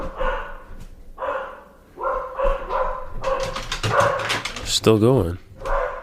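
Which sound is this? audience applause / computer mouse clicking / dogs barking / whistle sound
dogs barking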